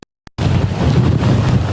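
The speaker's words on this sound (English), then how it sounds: "Some of the strongest winds we've felt so far from the hurricane." Strong hurricane winds of Hurricane Ian making Category 4 landfall on Florida's south coast roar loud and steady against the microphone, following two brief clicks, with no speech.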